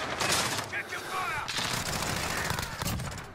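Rapid gunfire from a first-person shooter game on the cramped map Shipment, dense bursts of automatic shots crackling almost continuously and loudly throughout, with a brief lull around the middle.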